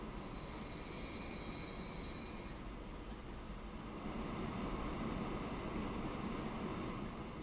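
Trains rumble along the tracks with wheels squealing in the video game Transport Fever, a continuous loud rolling roar with a high screech in the first few seconds and no talking.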